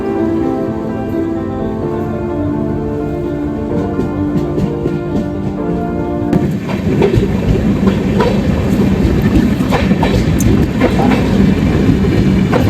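A passenger train rolls along the rails toward Arsikere, a steady loud rumble with rhythmic clickety-clack from the wagons that grows rougher and louder partway through, with no voices.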